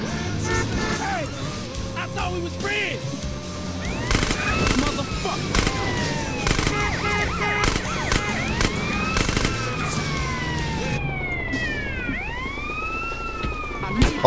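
Police sirens wail and sweep repeatedly in a GTA San Andreas chase, overlapping with bursts of gunfire and engine noise, while someone talks over the game action.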